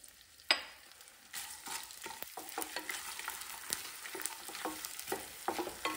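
Edible gum (gond) frying in hot ghee over medium heat for besan panjiri, a steady crackling sizzle after a sharp clink at the start, with stirring scrapes throughout.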